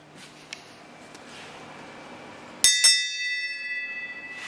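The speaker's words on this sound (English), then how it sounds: "I'm going to ring the bell." A bell rung once in a workshop, a sharp bright strike at mid-clip that rings on with a long, slowly fading metallic tone over quiet room noise.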